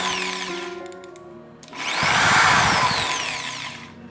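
A Mitsushi heavy-duty electric car polisher on 220 volts whirs steadily at low speed, with a high motor whine and harmonics that rise and grow louder partway through, close and without talk.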